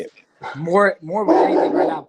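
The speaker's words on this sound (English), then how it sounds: "Sorry about the dog." A dog barks and yips close by during an interview, a few short, sharp calls that overlap with someone speaking.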